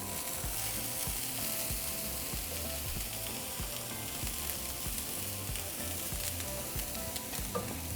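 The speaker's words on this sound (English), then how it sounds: "I'm going to add my ground beef." Ground beef sizzles on a comal beside melting cheese in a steady, fairly quiet crackle with faint scraping clicks and no talking.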